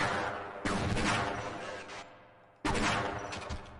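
Gunfire exchanged with Marines in Half-Life: Blue Shift: two loud bursts of rapid shots, the first trailing off, then a pause and a second sharp volley, close and without speech.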